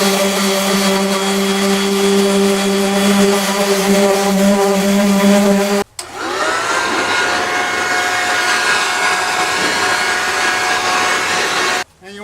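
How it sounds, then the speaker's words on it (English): A disc sander fitted with 60-80 grit sandpaper works over the headliner of a Nissan Frontier truck, a loud steady whine with a pitch shift partway through and two brief cutoffs. "I'm going to go ahead and hit it with some like 60-80 grit sandpaper on a disc"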